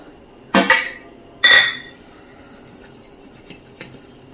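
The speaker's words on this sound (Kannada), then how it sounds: "ಈ ಥರ ಒಂದು ತಟ್ಟೆ ತಗೊಂಡು ತುಪ್ಪದಲ್ಲಿ ಇದನ್ನು ಸ್ವಲ್ಪ ಗ್ರೀಸ್ ಮಾಡ್ಕೋಬೇಕು" A plate being greased with ghee for burfi: two short, close scraping rubs against the plate, followed by a few faint light clicks in an otherwise quiet room.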